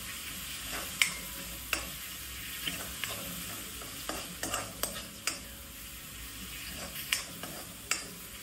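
Green chillies and coriander fry in a pan under a quiet steady sizzle, broken by repeated sharp spatula scrapes and taps at irregular intervals. No voices are heard.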